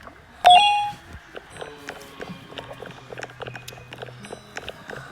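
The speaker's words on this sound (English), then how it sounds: "Okay, stop ringing the dang bell." A bell in the Animal Hospital video game gives one sharp, bright ring near the start, followed by softer clicks, taps and game effects in the background.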